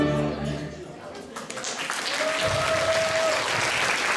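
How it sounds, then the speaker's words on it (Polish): Festival audience applauding after a polonaise dance performance, a broad wash of clapping that swells in the second half while a voice and a sustained tone sound in the opening moments. "Wielkie brawa, proszę Państwa."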